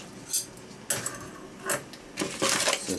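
Scissors snipping through fish before it goes into an air fryer: a handful of sharp, close clicks and cuts spaced irregularly, with soft handling noise between them.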